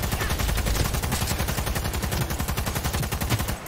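Automatic gunfire in the video game Cyberpunk 2077, a loud, continuous stream of rapid shots that runs almost the whole time and stops near the end, with no talking.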